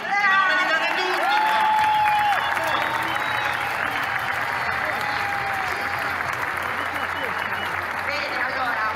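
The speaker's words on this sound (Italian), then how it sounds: "rifatemi un applauso" A large outdoor crowd at a political demonstration applauds steadily and loudly throughout, with scattered cheers and whistles rising above the dense clapping.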